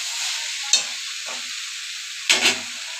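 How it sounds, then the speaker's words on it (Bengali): Soybean chunks sautéed in a pan over a constant hissing sizzle, with a couple of brief louder stirring scrapes. "এবার সোয়াবিনটা আমি ভালোভাবে কষিয়ে নেব।"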